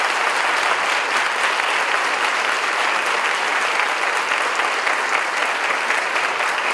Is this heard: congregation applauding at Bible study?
yes